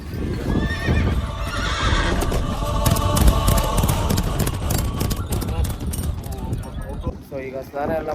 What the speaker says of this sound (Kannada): ಕುದುರೆ ಓಡಿಸ್ತಾವ್ರೆ.